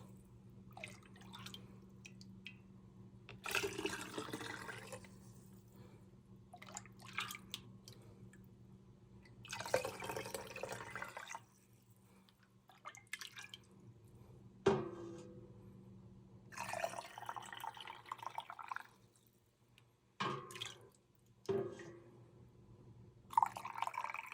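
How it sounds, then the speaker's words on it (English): Chicken broth ladled into jars, with intermittent liquid pours, drips and soft clinks in separate bursts against a quiet background hum. "we're just going to fill our jars up to the 1-inch headspace"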